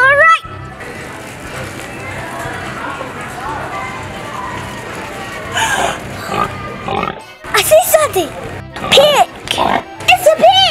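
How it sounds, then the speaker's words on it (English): Pig oinks and grunts come in short bursts alongside excited children's voices and background music, fairly close and loud. "Pig! It's a pig!"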